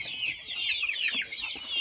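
Farm chickens, guinea fowl and turkeys cluck and chatter together in a short, busy burst of close, overlapping calls.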